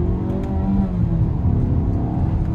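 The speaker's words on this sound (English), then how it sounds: "A little bit of a slow upshift there." A 2022 Mazda CX-5 Turbo in manual mode hums and whirs from inside the cabin, its engine note shifting through a slow upshift in a steady, continuous drone.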